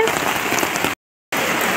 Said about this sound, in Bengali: এত জোরে বৃষ্টি পড়ছে